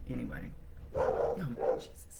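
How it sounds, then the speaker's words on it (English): A large 60-pound pet dog barks indoors in a few loud bursts behind someone talking, the barks rising between her startled words. "She makes me jump every time she starts barking."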